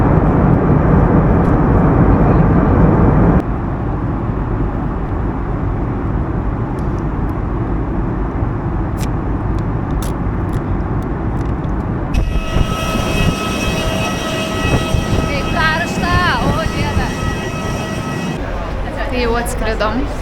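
Airplane in flight heard from inside the cabin, a steady broadband engine and airflow roar that shifts level early on, with faint scattered clicks and brief tonal sounds over the continuous drone.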